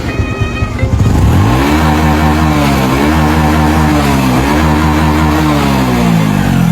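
A motorcycle engine revs hard and close, its pitch climbing and dropping in repeated throttle blips over a steady, loud roar, with no talking.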